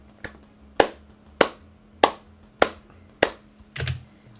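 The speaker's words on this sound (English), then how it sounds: "I heard silence, so I started clapping" A person claps their hands in a slow, even rhythm, about six or seven sharp, crisp claps spaced roughly half a second apart, close and fairly loud, with a faint steady hum underneath.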